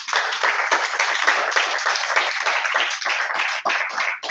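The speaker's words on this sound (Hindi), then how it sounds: "आशिर के लिए जोरदार ताली।" Loud, sustained applause from an indoor class audience, dense overlapping hand claps that keep up steadily for several seconds.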